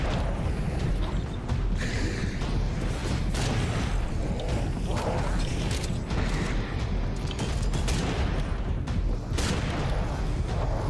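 Dense, continuous rumble of explosions and rapid gunfire in the video game Serious Sam 4, with volcano eruptions, loud and unbroken throughout, with mechanical clatter mixed in.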